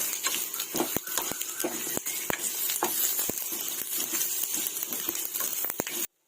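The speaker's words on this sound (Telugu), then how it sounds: "ఇలా 2 టేబుల్ స్పూన్లు ఆయిల్ వేసుకొని ఇవన్నీ కూడా వేసేసుకొని ఆయిల్లో ఫ్రై చేసుకుందామండి" Dried red chillies, coriander seeds and cumin fry in two tablespoons of oil for a raw mango and prawn shell pickle, giving a close, steady crackling sizzle with scattered pops and no talking.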